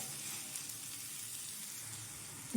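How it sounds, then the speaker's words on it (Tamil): Coconut pieces and cashews sauté in a pan for an empty salna, giving a soft, steady, close sizzle with no talk. "முந்திரி சேர்த்து ஒரு 4 நிமிஷம் நல்லா வதங்கட்டும்"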